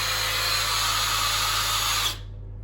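A power drill bores steadily through porcelain tile with a loud, continuous high whine and grinding, then stops abruptly near the end, leaving a low hum.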